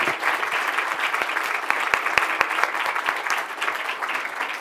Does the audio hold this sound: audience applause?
yes